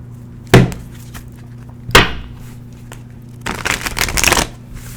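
Close, crisp bursts of tarot cards being shuffled: two sharp riffles early on, then a longer fluttering shuffle near the end, with quiet gaps between.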